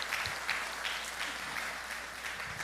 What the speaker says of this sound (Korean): 우리 하나님께 영광과 감사의 박수를 먼저 돌렸으면 좋겠습니다